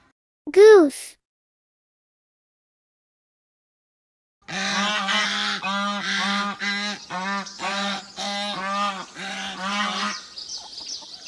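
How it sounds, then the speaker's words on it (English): A farm goose gives a single loud honk, then after a pause a rapid series of repeated honking calls runs for several seconds, close and clear. "Goose."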